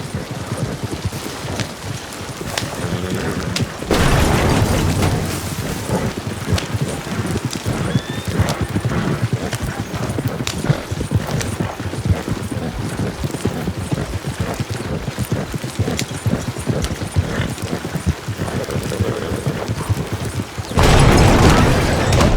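A horse-drawn wagon in Red Dead Redemption 2, with continuous clip-clopping hooves and rumbling wheels, loud and close, plus occasional neighs and heavier jolts from the rough ride.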